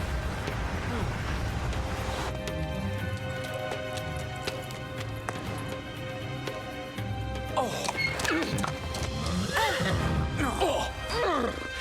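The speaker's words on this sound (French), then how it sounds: "ce sont les chevaux d'Inès et Bernardo" Cartoon horses neigh and whinny repeatedly in an animated Zorro adventure, with clip-clopping hooves and busy action sounds building toward the end, layered under other soundtrack noise.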